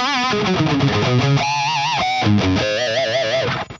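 Electric guitar with a Plexi-style tone through a Friedman IR-X all-tube direct unit, a short phrase of bright, slightly gritty sustained notes with vibrato, played loud and close with no talking.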